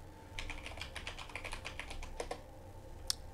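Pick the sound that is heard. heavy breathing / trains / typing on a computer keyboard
typing on a computer keyboard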